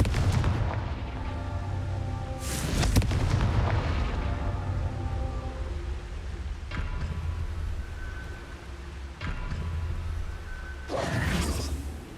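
Repeated Confringo blasting spells exploding in Hogwarts Legacy, several booming bursts with whooshing tails spaced a few seconds apart over a steady rumbling game background.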